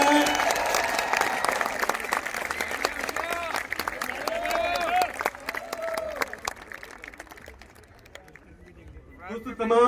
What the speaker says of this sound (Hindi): जोरदार तालियों से एक बार उनका इस्तेमाल किया जाए।